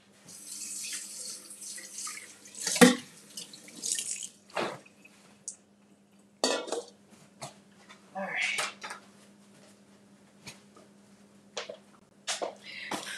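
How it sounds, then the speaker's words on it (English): Tap water runs and splashes into a mixer bowl being rinsed at a kitchen sink, with intermittent gushes, drips and light clatter close by and a low steady hum underneath. "we're gonna rinse this out."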